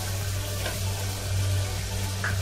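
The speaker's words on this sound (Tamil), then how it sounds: "நான் தக்காளி போட்டுக்கிறேன் தக்காளி வதங்குறதுக்காக ஏற்கனவே கல்லுப்பு போட்டேன்" Tomatoes sizzle and fry in a pan with rock salt, a soft steady crackling hiss over a low hum, with faint stirring scrapes and no talk.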